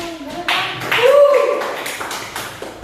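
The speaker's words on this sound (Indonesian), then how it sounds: "Oke, tepuk tangan dulu" Students in a school classroom give a few scattered, uneven hand claps over about three seconds, mixed with nearby voices talking.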